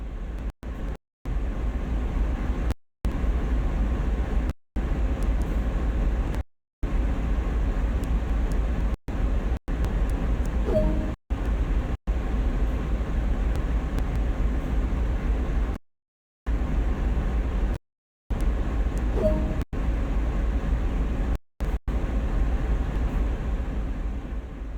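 A CSX freight train in Train Sim World creeps along slowly under speed control near a coal loader, giving a steady low engine rumble that is cut by frequent short gaps of silence.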